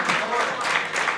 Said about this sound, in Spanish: por eso quiero que le deis un aplauso